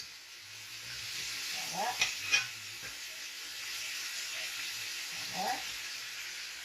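Marbled beef frying in a pan, a steady broad sizzle running throughout while the meat is stirred and turned, with a few soft clatters and brief speech over the sizzle.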